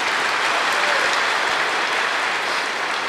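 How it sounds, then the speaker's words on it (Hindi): A dense, steady wash of audience clapping fills a gathering honoring Dadi Janki, continuous and evenly loud with no voices over it. "अब ताली बजाओ।"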